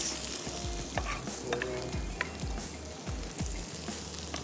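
Chopped onion frying in a pan for shakshuka, a steady close sizzle broken by regular rhythmic stirring scrapes, about one every half second, with no talk.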